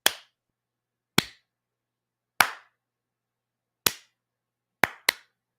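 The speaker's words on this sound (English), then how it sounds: "A slow clap for him from the We Lit fam." Podcast hosts give a slow clap, six sharp, isolated hand claps spaced about a second apart, the last two coming closer together, loud and close in an otherwise silent room.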